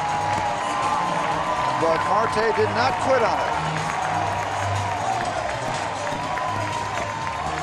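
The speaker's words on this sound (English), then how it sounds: "That lights up the crowd." A baseball stadium crowd roars and applauds after a sensational catch against the left-field wall. The cheering and clapping stay broad and steady beneath an excited broadcaster's commentary.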